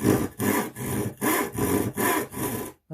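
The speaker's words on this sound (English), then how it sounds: "I saw straight down to the line." A tenon saw cuts wood for a finger joint with six rhythmic back-and-forth strokes, loud and close, each a rasping push separated by brief gaps, ending abruptly.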